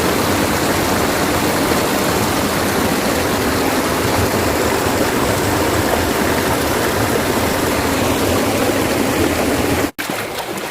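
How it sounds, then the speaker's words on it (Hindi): Floodwater from heavy rain rushes past a row of houses, a loud, continuous broadband roar of flowing water like a stream that holds steady throughout and cuts out abruptly near the end. "उस साइड से होता हुआ पानी इस साइड से गुजर के जा रहा है जी"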